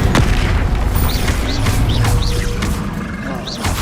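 Incendio fire spell cast in Hogwarts Legacy: a loud, booming fiery burst with rushing noise and brief rising magical chirps, continuous over the whole stretch with no break.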